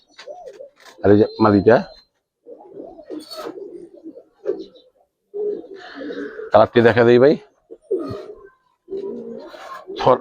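Giribaz and Army pigeons coo in low, rolling murmurs close by while someone talks over them, with a couple of louder bursts breaking through.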